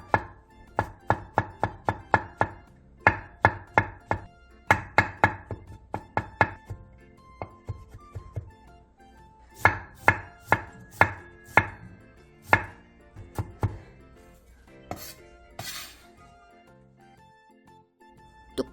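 A knife finely minces onion, half a shiitake mushroom and a piece of blanched broccoli on a cutting board, quick rhythmic bursts of close chopping thuds separated by short pauses.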